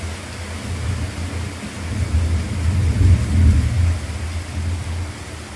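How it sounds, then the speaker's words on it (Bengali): Steady rain falls on a rainy day at a village home, a broad, even wash of noise that swells slightly in the middle, alone with no voices. "বৃষ্টি হচ্ছে।"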